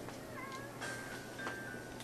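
An Outset Island cat in The Legend of Zelda: The Wind Waker gives a few short, quiet meows over a faint steady hum, each cry brief and nasal, with no one speaking.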